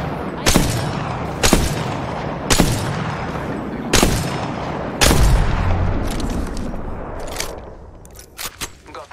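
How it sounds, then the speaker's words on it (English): Gunfire in Apex Legends, a series of sharp, loud single shots spaced about a second apart, then a heavier blast with rumbling decay and a few quick shots near the end. "Taking fire!"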